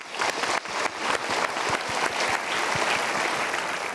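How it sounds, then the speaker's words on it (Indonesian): An audience applauds at a motivational talk event, dense steady clapping close and loud throughout, with no voices over it. "kita berikan tepuk tangan dulu."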